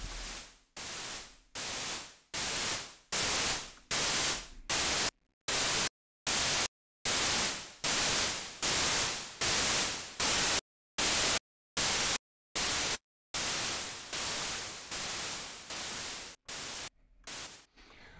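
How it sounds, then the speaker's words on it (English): Synthesized open and closed hi-hat built from a noise source shaped by an envelope: loud, harsh hissing bursts in a steady rhythm, some cut short and some ringing longer, with brief silent gaps, no voice. "So I very simply turned a noise source into a open and closed hat."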